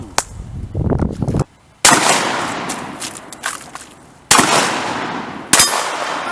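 Several sharp gunshot reports crack out at an outdoor shooting challenge, each a sudden loud bang with a brief ringing tail, spaced irregularly a second or more apart.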